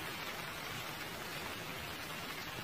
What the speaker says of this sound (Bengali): দেখ ধীরে ধীরে বৃষ্টি পড়ছে